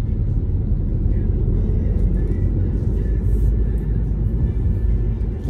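A car rolls through Belgrade at night on the way from Autokomanda to Ada Ciganlija, with a steady low engine and road rumble throughout and faint traffic whir. No one speaks.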